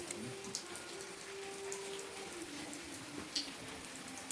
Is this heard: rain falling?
yes